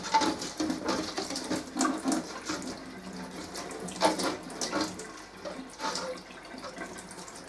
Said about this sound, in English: I will now rinse it out to make sure there's not a single molecule atom of the cleaner on there